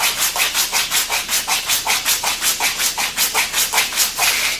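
A RacerTech Delrin bushing from a RZR front suspension being trimmed down in length, giving a steady rapid series of rhythmic rasping strokes, close and fairly loud, with no voices.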